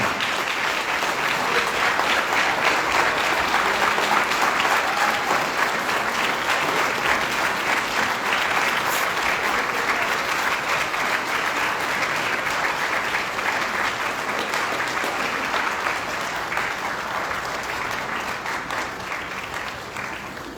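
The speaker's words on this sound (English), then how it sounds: "You gotta keep that round of applause going." Sustained applause fills a gala hall at a health organization's 50th anniversary celebration, a dense, steady wash of many hands clapping for about twenty seconds, holding strong before easing slightly toward the end.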